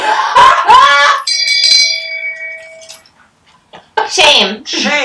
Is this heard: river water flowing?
no